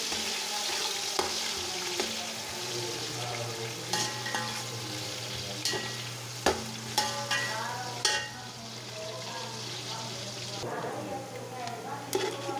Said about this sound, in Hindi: मैं प्याज इसमें ऐड कर लूँ इसको हल्का सा से ब्राउन करूँगी